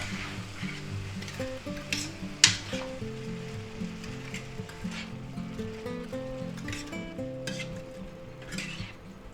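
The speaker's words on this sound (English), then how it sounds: "Okay, let's give that a stir." A spicy beef and vegetable stir fry with mushrooms sizzles steadily in a pan while being stirred. Scraping, ratchet-like clatter from the stirring comes through, with one sharp knock early on.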